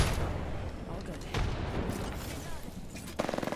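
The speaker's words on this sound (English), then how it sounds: "I just threw a grenade on you." A grenade blast in a video game sounds amid continuous loud gunfire and rumbling booms, dense and noisy throughout, with a rapid burst of shots near the end.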